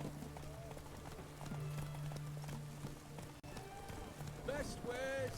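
Roach, a horse in The Witcher 3, gallops with a rapid, rhythmic clip-clop of hooves over a soft rain-like hiss, while a voice speaks briefly above the steady hoofbeats.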